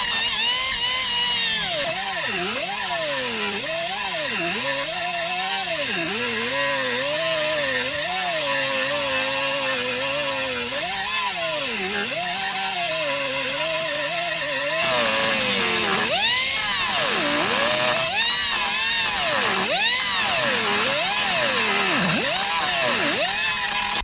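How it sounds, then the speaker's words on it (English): A handheld right angle air grinder buzzes steadily at close range, cutting out the remaining spot welds on the inner rocker panel of a Mercury Sable station wagon, its whine rising and dipping as the tool shifts angle and grows louder partway through. "we'll take care of the remains of it there with guess what, the right angle air grinder"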